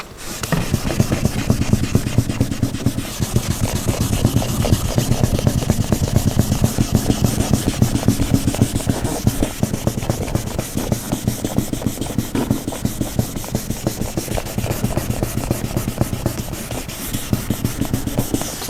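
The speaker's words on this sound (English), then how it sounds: "We're going to smooth this out a little bit here and use the Optimum Clear Coat Restorer." Continuous rhythmic rubbing strokes from hand-sanding and smoothing the clear coat on a Chrysler Crossfire with P800 paper and Optimum Clear Coat Restorer, close and loud, with steady back-and-forth texture throughout.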